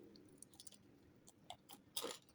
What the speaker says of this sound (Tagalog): Yung chicken crunchy pa